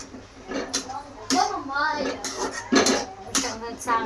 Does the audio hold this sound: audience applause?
no